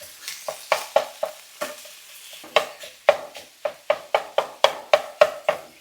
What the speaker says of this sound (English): we're going to use our little hamburger separator and get this meat separated